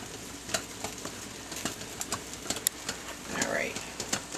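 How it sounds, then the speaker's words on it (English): Cream cheese being stirred in a pan for creamy penne alla vodka, with repeated soft spoon scrapes and taps over a low, steady sizzle. "I'm going to give this cream cheese a nice little stir."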